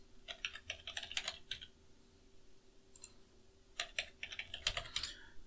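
Keys clatter on a computer keyboard in two quick bursts of close, soft typing separated by a short pause, as a password is entered twice, with no voices.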